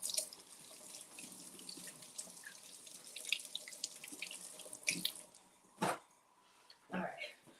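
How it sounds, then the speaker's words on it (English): Tap water runs steadily into a kitchen sink while something is washed, with splashes and a few louder bursts near the end as a person talks over it. "we're going to give this a good wash"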